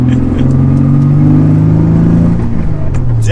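A heavily modified Nissan Z on solid bushings rolls along slowly while warming up, its engine giving a loud, steady, close droning rumble whose pitch climbs gently and then eases off.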